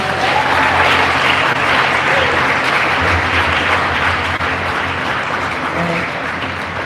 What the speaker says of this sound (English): Give them all a great round of applause.